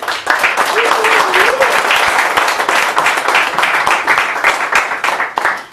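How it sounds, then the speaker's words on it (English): Loud, sustained applause from a seated audience at a Black Gay Men's Wellness Month panel welcomes a ministry founder and real estate executive, with dense clapping and a few scattered cheers running under the crowd for nearly six seconds. "Please give Gabriel Nash a round of applause."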